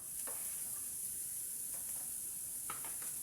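Onions frying in a hot pan, a steady faint sizzle with a few soft stirring scrapes and no talk.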